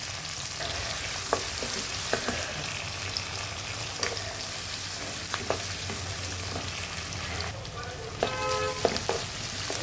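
Ivy gourd and fresh grated coconut sizzle steadily in hot oil with tempering spices and onions, while a utensil gives occasional light scrapes and clinks as the curry is stirred.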